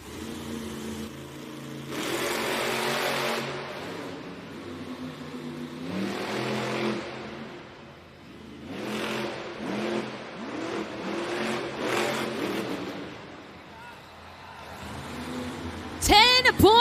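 The El Toro Loco monster truck engine revs in bursts as it creeps to the starting line at a JCB Racing event in an indoor arena, heard at a distance beneath an announcer's commentary, and swells louder near the end.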